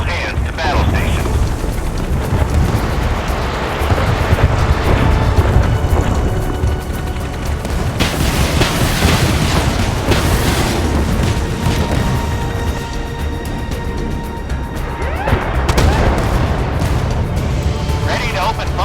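Warship guns boom and shells explode in the naval combat game Force of Warships, heavy repeated blasts and rumbling impacts over continuous battle noise, with game voice lines spoken over the action.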